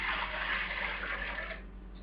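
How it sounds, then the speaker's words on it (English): Water poured into a pot, two quarts at once for brewing kombucha tea, a steady loud gushing stream that runs for nearly two seconds before thinning out. "So I have 2 quarts of water, pouring that in,"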